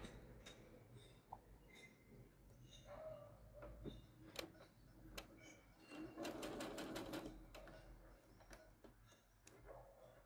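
A sewing machine stitches fabric, running in a fast, even, chattering rhythm at moderate loudness. It stops and starts a few times, with soft handling noises between the runs and a voice faintly present.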